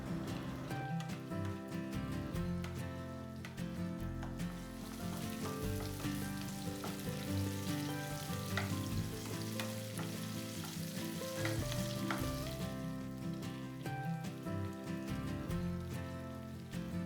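Shallots and curry leaves sauté in a pan for a Kerala neymeen (seer fish) pollichathu, giving a steady close sizzle and frying hiss that runs under loud continuous background music.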